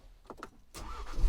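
Push-button start of a car with a 2.3 engine: a couple of short starter clicks and whirs, then the engine catches into a steady near rumble that grows slightly louder, with no one talking.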